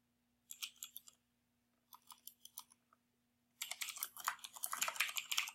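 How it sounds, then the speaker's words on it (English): Close keys clatter on a computer keyboard in three bursts of rapid typing separated by short pauses, the last burst longest and densest, against an otherwise quiet room with a faint steady hum. "I'm going to type an address"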